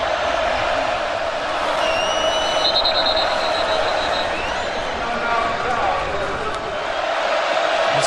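A roaring stadium crowd at an Oregon vs California college football game, a steady dense wall of cheering and noise that holds for the whole stretch, with voices mixed in.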